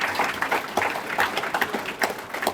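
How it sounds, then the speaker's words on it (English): A rodeo hall of fame crowd applauds for a rodeo queen, dense steady clapping from many hands filling the room at moderate volume, with no voices on top. "So give them a round of applause."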